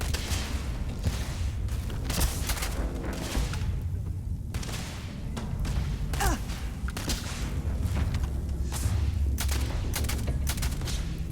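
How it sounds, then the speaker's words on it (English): Mining turrets in Starfield firing, a continuous barrage of rapid gunshots and heavy booms with a rumbling low end, steady and loud throughout. "I'm guessing being shot by those mining turrets would be really bad."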